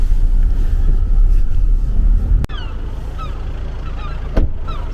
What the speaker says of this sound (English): Nice bit of fog, seagulls around in the distance, squealing.